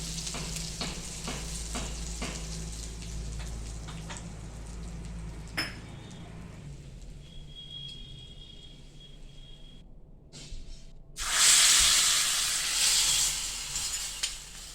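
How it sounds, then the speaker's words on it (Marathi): Hot garlic and coriander tadka sizzles loudly as it is poured onto cooked dal, a burst of bright frying hiss after quieter clinks and stirring of a pan, close and without talk. "आता हा बघा हा आपण असा हा तडका देणार आहे डाळीला"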